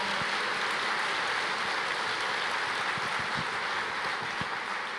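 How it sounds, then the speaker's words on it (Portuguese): Worshippers in a church clap continuously as a group, producing an even, rain-like patter of applause heard from a distance at moderate volume, with occasional low knocks. "Pode aplaudir o Senhor, Ele é digno."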